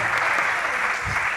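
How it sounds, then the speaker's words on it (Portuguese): A panel audience at a late-evening event bursts into applause, a loud, dense and continuous wash of clapping filling the whole moment. "Uma salva de palmas para essa mesa."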